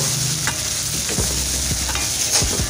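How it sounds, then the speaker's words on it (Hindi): Red chilli powder and spice masala being stirred and roasted in a pan, with a steady close sizzle under repeated scraping strokes of a spoon against the metal, no voices. "अब क्या करेंगे मसाले को अच्छी तरह से भून लेंगे मसाले को"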